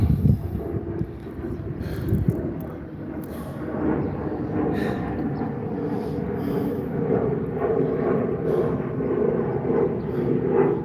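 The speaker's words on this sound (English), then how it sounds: "Airplane." An airplane passes overhead, producing a steady, fairly loud broadband roar that hangs over the whole stretch with a slight wind-like rush and no clear start or end.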